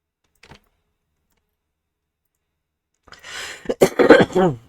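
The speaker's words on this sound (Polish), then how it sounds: "Wybaczcie kaszle, bo się trochę przyziębiłem." A faint tap, then a quiet pause before a man with a cold breaks into a close, harsh coughing fit of several rough bursts.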